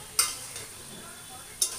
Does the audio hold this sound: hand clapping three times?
no